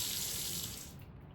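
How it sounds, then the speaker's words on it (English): Running tap water splashes steadily into a sink as hands are washed, a bright close rush that cuts off abruptly after about a second. "Wash my hands real quick here."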